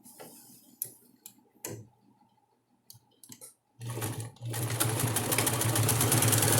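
Scattered handwheel clicks and taps give way to a sewing machine starting up and running steadily, a close, dense mechanical whir of rapid needle strokes while closing the leg seam of a double-sided diaper cover.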